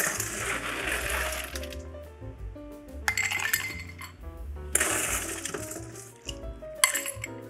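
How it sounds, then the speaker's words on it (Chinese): Ice cubes dropped into a cup for iced pour-over coffee, repeated bright clinks and clattering bursts of ice against the vessel, close and fairly loud. "然后呢，我们要来加冰块了"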